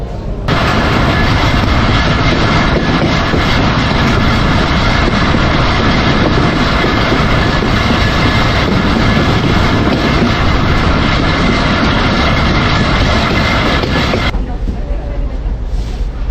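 A Bangladeshi local passenger train rumbles loudly along the tracks in a continuous roar with rattling, then drops off sharply near the end.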